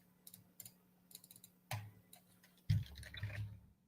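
Keys on a computer keyboard tap in short bursts, soft at first and then louder, with a few heavier thumps and brief pauses.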